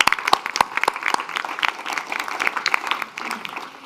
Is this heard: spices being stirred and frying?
no